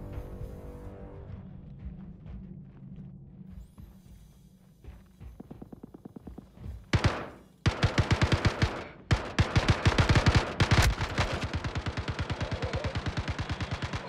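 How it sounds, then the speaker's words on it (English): Gunfire in Star Citizen: after a low rumbling stretch, rapid bursts of shots break out and build into loud, sustained automatic fire with brief pauses. "No, stop firing at me, gun."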